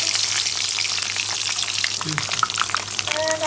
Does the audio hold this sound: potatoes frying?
yes